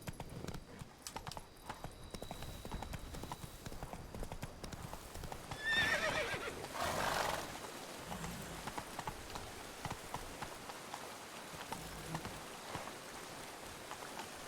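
Horse hooves clip-clop steadily through rain in The Witcher 3 video game, with a quick whinny and snort partway through, moderately quiet and continuous.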